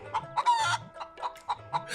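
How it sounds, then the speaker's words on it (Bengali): Cartoon chickens cluck in quick repeated bursts, a laying hen's clucks and short calls, close and clear with no talking. "রতন বাজার থেকে বেশ কয়েকটি ডিম পাড়া মুরগি কিনে নিয়ে আসে"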